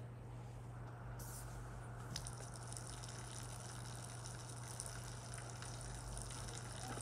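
Leaking water runs in a steady, even gush under a constant low hum, with no change in level and no voices.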